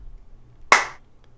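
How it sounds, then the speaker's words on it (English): A single sharp hand clap recorded alone, a crisp close snap with a short decaying tail in a quiet room. "I recorded this clap sound earlier today, so you can have a listen."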